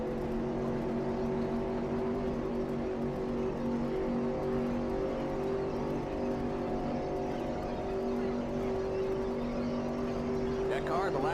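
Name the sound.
stock car engine racing in a NASCAR racing video game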